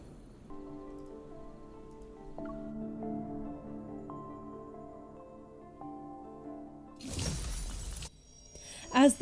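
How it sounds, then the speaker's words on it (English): A protocol cluster shatters in the video game Thorns under The Moon, a loud crystalline breaking burst after a quiet sustained musical drone, followed by a shorter glassy crackle. "As the protocol cluster shatters, a distant tremor ripples through the air."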